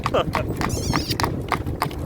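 A mare's hooves clop at an even walking pace, several distinct strikes in a row, close by, while a person talks over them.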